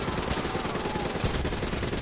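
Dense automatic gunfire from the Call of Duty Black Ops 3 video game in an Egypt battle, a loud continuous rattle of overlapping shots with no gaps.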